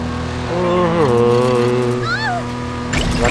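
A car in LEGO City Undercover is driven recklessly, its engine drone bending up and down in pitch, with game music and effects layered on top and a closing burst of crash or skid noise.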